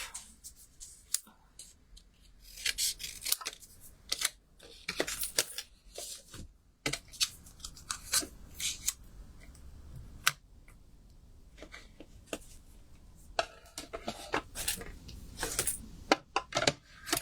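Scissors cutting through a piece of card during paper crafting, a series of sharp snips and crisp clicks scattered unevenly among handling and rustling, close to the microphone, with a few quiet stretches between them.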